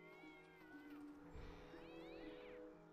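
A cat meows in the fantasy video game Neverwinter Nights, with a couple of drawn-out, wavering cries over a steady humming background of game music.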